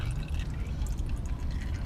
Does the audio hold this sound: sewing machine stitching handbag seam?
no